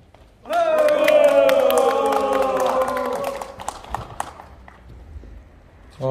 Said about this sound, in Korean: 힘찬 함성과 박수로 시작하겠습니다